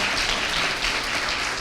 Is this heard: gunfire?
no